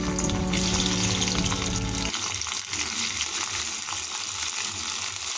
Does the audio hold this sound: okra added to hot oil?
yes